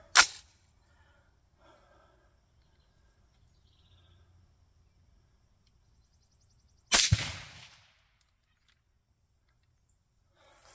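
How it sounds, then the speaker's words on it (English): A 6 ARC rifle firing a 75 grain Vmax bullet into ballistic gel gives two sharp, loud cracks about seven seconds apart, the second trailing a brief rumble, with near silence in between. "So first step is a 75 grainer. Hopefully I got to trigger the high speed camera down there."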